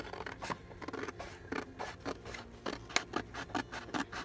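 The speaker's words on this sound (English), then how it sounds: "I can cut it because I can use scissors." Scissors snip through a paper napkin in a quick series of crisp cuts, each with a short papery rustle, close by and without speech.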